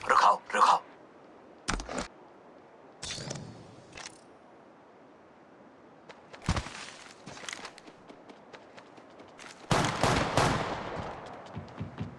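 Gunfire in the mobile battle royale game Apex Legends Mobile comes as several sharp bursts of automatic shots separated by quieter gaps, with a longer loud volley near the end and voices talking in places.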